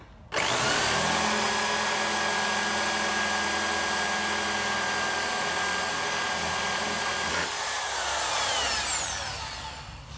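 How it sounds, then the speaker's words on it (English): A power drill drilling, a loud steady high-pitched whine that runs continuously for about seven seconds, then shifts and winds down, close by with no talk. "All I'm doing is getting a hot drill."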